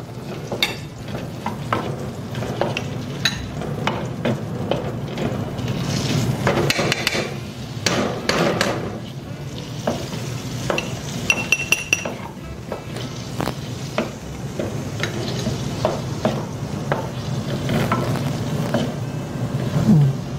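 Chorizo stir-fries in a pan with a steady sizzle, while a utensil scrapes and knocks against the metal in irregular clanks and taps throughout.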